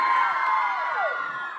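At a school dance show for Class IV and V children, the audience lets out a sustained, bright cheer of young voices that slowly tapers off, with no distinct clapping standing out.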